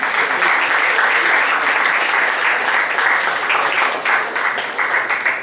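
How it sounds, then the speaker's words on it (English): Audience applause fills a homecoming stage show, steady broad clapping throughout with a faint whistle-like tone near the end. "Give another round of applause."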